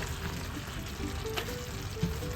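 Onions sizzle steadily in a hot pan as they are stirred for Filipino bistek Tagalog (pork steak), with a continuous frying hiss and a soft scrape or clink near the end.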